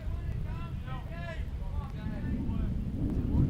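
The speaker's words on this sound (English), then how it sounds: "There's that 15-mile-an-hour gust." A roughly 15 mph wind gust at an outdoor college baseball game, low buffeting rumble swelling toward the end, with a voice talking over it.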